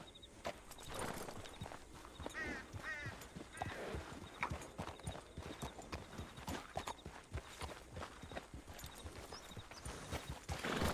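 Horses walk in a roleplay video game, their hooves clip-clopping in a steady, fairly close rhythm, with a faint whinny and occasional soft voices underneath.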